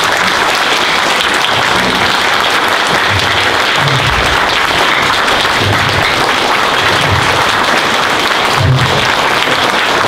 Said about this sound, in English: can I ask you to give all our speakers another round of applause